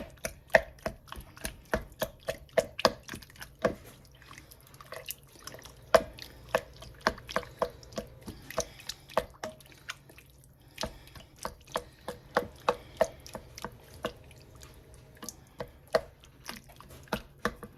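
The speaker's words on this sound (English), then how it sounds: "Here's how to make a quick diced tomatoes if your tomatoes are whole from the garden." Whole garden tomatoes being chopped into dice on a cutting board, a long run of quick, crisp knife taps in an uneven rhythm, close and clear with no talking.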